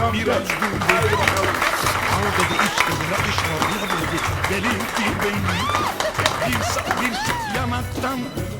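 Wedding guests at a Mardin engagement celebration applaud the groom Abdülkadir, a loud, continuous clapping under busy crowd noise and music-like tones, with voices chattering throughout.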